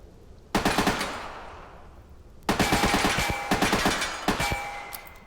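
Full-auto gunfire from a rifle in the VR shooter Tactical Assault VR: a short loud burst, a pause, then a longer sustained rattling burst with brief breaks, crisp and close, no talking.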